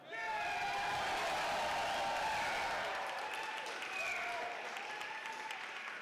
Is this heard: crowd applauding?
yes